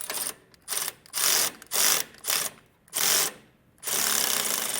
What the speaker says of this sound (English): I'll alternate back and forth with our carriage bolts and just snug them down